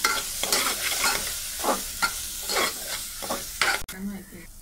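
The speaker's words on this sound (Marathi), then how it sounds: "मसाला चांगला आपण 1 मिनिट फिरून घेतला आहे" A spoon scrapes and turns Malvani masala with onion-coconut paste in a frying pan for squid gravy, rhythmic stirring strokes over a soft continuous sizzle.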